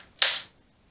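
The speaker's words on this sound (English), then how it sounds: "I'm gonna try to draw my weapon from the holster and shoot down at my hip and see if I can hit the target." A single sharp snap-like click of a dry-fire shot from a laser training pistol drawn from the holster, close and crisp, fading quickly into quiet.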